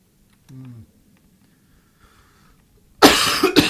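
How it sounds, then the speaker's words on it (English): A short vocal sound, then a harsh, loud burst of coughing close to the microphone at the end. "I'm sorry for all the coughing."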